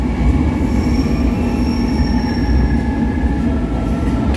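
An empty special KLB train runs straight through Bandung station without stopping, giving a loud, steady rumble of wheels on rail with high metallic squeal tones sustained throughout.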